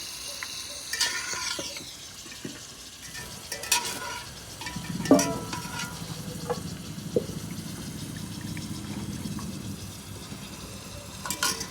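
Beef hits a hot pan for a traditional beef pulao and salan, with clattering as it goes in and is stirred, then a steady close sizzle and frying.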